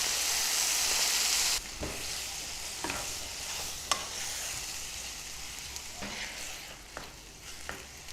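Tomatoes dropped into a pan of cooking ginger garlic paste: a hiss of sizzling that quickly settles into quieter frying, with occasional scraping stirs and light clinks, close and without talk.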